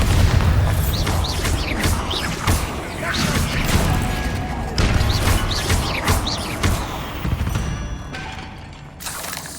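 Bombarda explosion spells go off in Hogwarts Legacy, a series of loud booming blasts and crashes repeating through the scene with a dense rumbling low end, fading slightly at the close.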